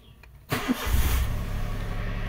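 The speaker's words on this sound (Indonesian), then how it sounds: "kita nyalakanlah mesinnya" A used car's engine cranks and catches after a quiet moment, firing up abruptly then settling into a steady, close idle hum.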